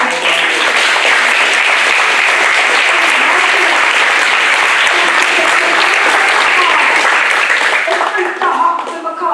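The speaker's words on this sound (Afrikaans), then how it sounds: "Kom ons gee die Here 'n hande klap." A church congregation claps hands together in loud, dense, sustained applause that fills the space evenly before tapering slightly at the end, with voices faintly mixed in.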